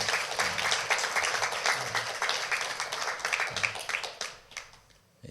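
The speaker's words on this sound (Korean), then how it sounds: "큰 박수로 하나님의 영광을 돌립니다." A church congregation applauds during a Sunday morning worship service, a thick, even wash of clapping that holds steady and then fades out near the end.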